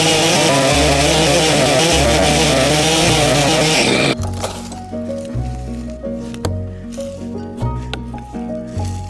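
A chainsaw with a standard crosscut chain rips lengthwise through old, weathered wood. The engine roars loud and strained at first, then settles into lower, pulsing bursts as the cut continues, with faint clinks in between.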